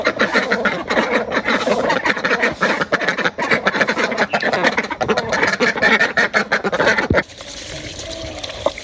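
Small ducks quack in a busy, overlapping chorus at close range, rapid repeated calls filling the scene before they thin out toward the end.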